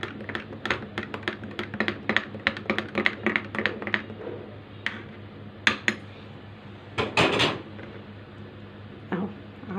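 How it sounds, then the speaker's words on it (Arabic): Spoon stirring guava milk juice in a glass or jug, a quick run of sharp clinks and taps, then a few louder scattered knocks and a brief rattle, close and alone without speech. "نقلب كده"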